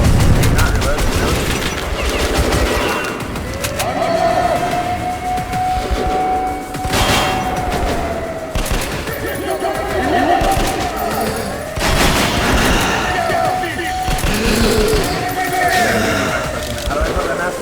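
Video game gunfire crackles in rapid bursts and scattered volleys through most of the stretch, with a person talking over the shooting.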